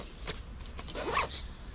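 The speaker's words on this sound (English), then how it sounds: "as you can see, the zipper is down here, so everything's just going to fall out." A zipper on a 5.11 Tactical RUSH 100 backpack is pulled in a short rasping run, close up and fairly loud, with a few light taps of the fabric beforehand and no talking.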